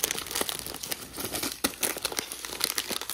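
A plastic packet of pretzels is handled up close, crinkling and rustling continuously in quick, uneven bursts with no talk over it.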